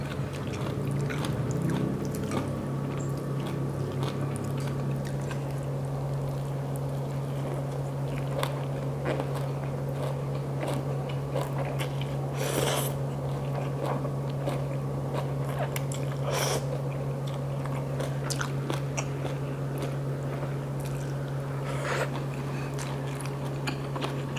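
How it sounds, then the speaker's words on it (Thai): Close-up biting and chewing while eating khanom jeen rice noodles with pla ra fermented fish sauce, chicken wings and plenty of fresh vegetables, with soft crunches and crackles over a steady low hum. "กัดกินทั้งตนเลยเนี่ย"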